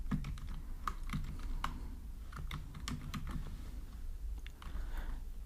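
Code being typed on a computer keyboard while writing an Android SQLite database function, with quick, irregular clicks of keys and a few taps closer together, fairly faint over a low steady hum.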